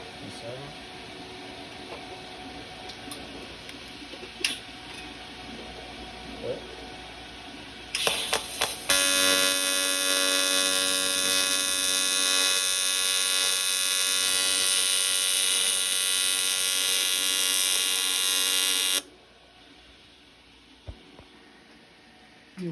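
TIG welding arc tacking a practice kit soccer ball, a loud steady high buzzing hiss lasting about ten seconds, preceded by a few short sputtering starts and faint handling noises, then quiet.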